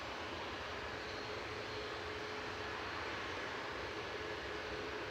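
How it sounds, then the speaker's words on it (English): A Boeing Dreamliner airliner creeps along the ground at Manchester Airport, a faint, steady engine rumble and hiss held at a distance, with no talk. "Creeping in the background is the Dreamliner"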